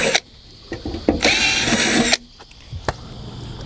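A drill bores a 3.5mm hole for bracket screws during a Raymarine Wi-Fish sonar install, giving one loud, steady whine of about a second with brief knocks and handling clicks before and after.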